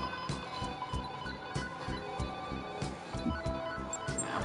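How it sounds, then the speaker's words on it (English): A phone ringtone plays in the video game Dead Rising 2, a soft, repeating electronic melody with an even, pulsing rhythm and no talk. "Oh, you can change your ringtone."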